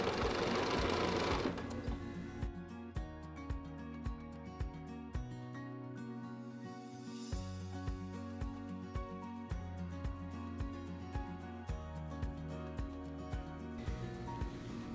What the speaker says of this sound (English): so just continue sewing, leaning against the edge of the ruler.